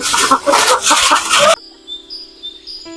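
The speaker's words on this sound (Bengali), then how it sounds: "আপনারা যে কিভাবে খাঁচায় মুরগি লালন পালন করেন" Chickens clucking on a free-range poultry farm, loud close clucks and squawks for about a second and a half, then quieter sustained tones.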